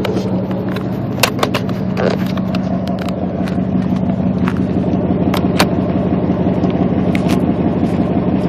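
A pickup truck with a 4.7 liter engine idles with a steady, loud exhaust rumble, a constant close-up drone with a few faint clicks over it.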